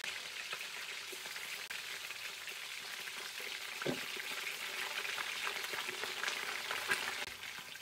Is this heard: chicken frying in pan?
yes